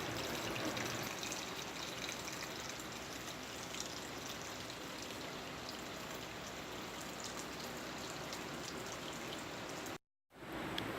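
A steady stream of water, 1.4 liters in all, pours into a cooking pot for mussel soup, a continuous splashing rush that cuts off abruptly near the end.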